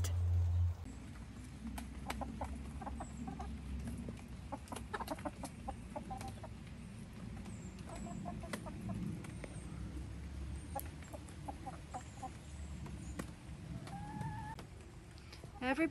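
Chickens clucking in a coop run, soft scattered clucks and chirpy calls spread through a steady low background hum, fairly faint and ongoing with no talk over them.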